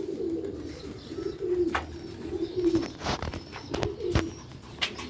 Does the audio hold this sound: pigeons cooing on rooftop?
yes